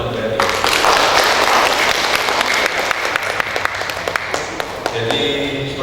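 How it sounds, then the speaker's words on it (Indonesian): An audience at an Indonesian event claps for Bank BRI, a loud burst of applause that gradually thins into scattered individual claps, with voices present. "Tepuk tangan untuk Bank BRI."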